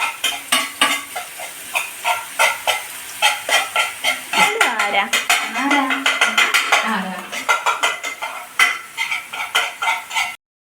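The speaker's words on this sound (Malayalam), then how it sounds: "വെജിറ്റബിൾസ് ഇളക്കുന്നു, മുട്ട ചീകുന്നു" Vegetables and egg are stirred and scrambled in a pan with repeated rhythmic metal scrapes and clanks of a spatula, loud and close over a light sizzle, with a voice briefly audible partway through.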